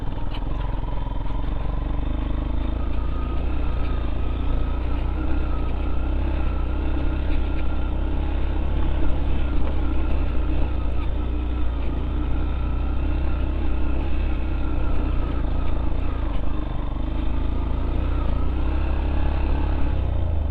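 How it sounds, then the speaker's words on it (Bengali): Motorcycle engine running with an unusual, off sound on a hilly forest road, a steady, loud drone with rough clattering texture throughout, heard from the rider's position with no clear talk. "বাইকের সাউন্ড বেলেগ হয়ে গেছে গা।"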